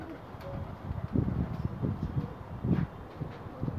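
A female Ferozpuri pigeon coos softly nearby in a series of low, throaty pulses against a quiet background.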